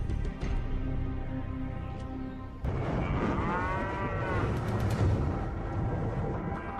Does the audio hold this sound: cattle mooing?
yes